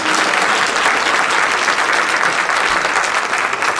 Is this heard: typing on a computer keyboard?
no